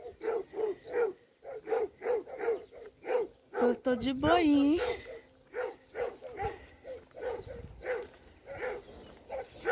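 Several dogs bark repeatedly from nearby along a rural road, a rhythmic series of loud yapping barks with brief whimpers, while a person speaks over them.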